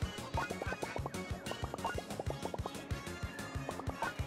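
A goose in the video game Atomic Heart gives a run of rapid, evenly spaced quacking honks in short bursts. The calls sit over a steady musical background with a faint wet gurgle.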